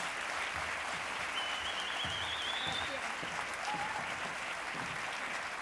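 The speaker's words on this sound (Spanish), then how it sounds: "este aplauso, jóvenes aragoneses, es para vosotros" Steady, dense applause fills a hall at a youth awards gala in Aragon, continuing evenly throughout with a few faint voices underneath.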